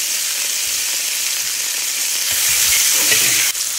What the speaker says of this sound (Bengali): না হলে তেল ছিটাচ্ছে।